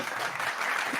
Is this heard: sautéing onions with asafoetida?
no